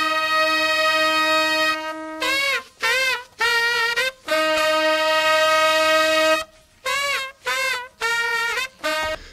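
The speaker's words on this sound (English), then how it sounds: "the next time that you hear that this phrase is when they do more of the call and answer thing at the end" Horn section from the outro of a song, sax and brass phrases trading call-and-answer: sustained held tones alternate with short bursts of bending, stabbing notes, loud and close with no voices.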